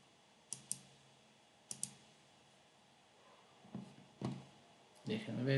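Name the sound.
computer mouse clicking in MPLAB X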